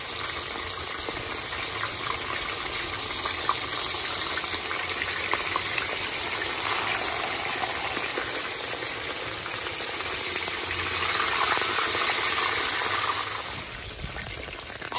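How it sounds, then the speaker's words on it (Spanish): Steady broadband sizzle of mojarra fish frying in hot oil on a disco cooking disc, continuous and fairly loud throughout, with no voices. "se van friendo poco a poco"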